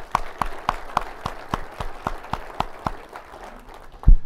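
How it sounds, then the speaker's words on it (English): Sparse, evenly spaced claps, roughly one every quarter second, from a small audience at a city State of the City presentation, fairly close and with no talk over them. "Let's give them a round of applause, please."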